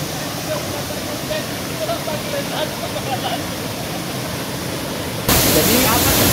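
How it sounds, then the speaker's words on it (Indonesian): Constant roar of a waterfall about 10 meters high in Tebo Regency, Indonesia, a dense rushing wash of falling water that swells louder in the last second, with no voices. "Jadi jatuhan air terjun ini sekitar 10 meter."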